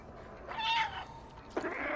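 A cat meows in the video game Stray: two short mews, the first drawn out and the second starting with a sharp onset, close and fairly clear over a quiet background with no talking.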